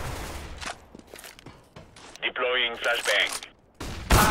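In Counter-Strike: Global Offensive, a few sharp bursts of gunfire crack amid quiet footsteps and game sounds, with a person speaking German in the middle.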